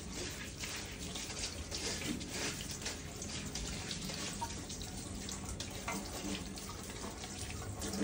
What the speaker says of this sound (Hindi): So I'll just run the water through this and mix it like this.